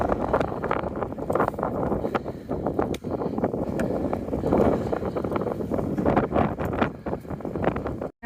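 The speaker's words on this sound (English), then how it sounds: "It's windy, but not as bad as it could be." Gusty wind on Franconia Ridge buffets the microphone in continuous rough bursts, rumbling and roaring with brief lulls.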